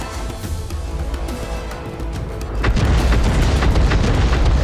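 Heavy artillery explosions in an online tank battle, booming blasts that swell into a loud, sustained rumble with scattered cracks, no voices.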